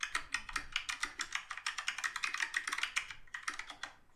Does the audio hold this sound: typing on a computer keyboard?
yes